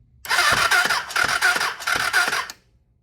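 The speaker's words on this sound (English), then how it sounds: "It's turning over." An engine with the clutch held in cranks over repeatedly in several rhythmic, close bursts of churning, then cuts off abruptly into near silence.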